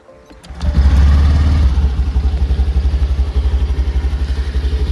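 A Honda Activa 125 BS6 scooter starts with a quiet, smooth startup, then settles into a steady, close idle with a soft rhythmic exhaust pulse that holds for several seconds.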